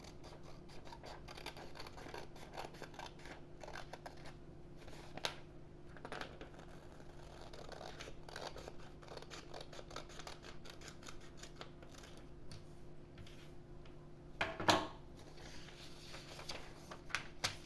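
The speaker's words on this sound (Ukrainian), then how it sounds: "зайве відріжемо, беремо ножиці" Faint, quiet snips of scissors through paper with soft rustling, ending in a couple of sharper cuts near the end.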